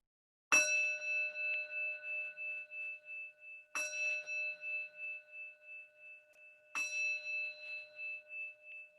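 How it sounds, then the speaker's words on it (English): A bell is struck three times at steady intervals, each clear metallic ring sustaining and slowly fading before the next strike, in a quiet room. "when you can no longer hear the sound of the bell"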